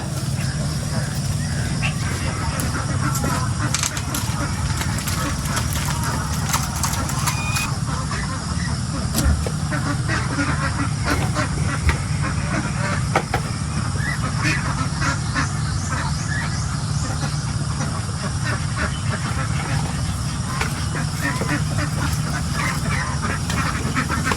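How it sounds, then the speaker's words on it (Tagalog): Ducks quacking on a farm, a dense continuous chorus of many birds close by with constant calls layered over one another, a voice speaking now and then among them. "May mga itik na sa loob, di pa lumabas."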